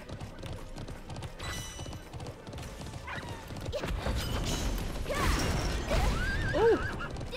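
Horse in the Alicia Online video game, with whinnies and neighs rising over a steady loud rumble of hooves and game background sound, the cries growing stronger near the end.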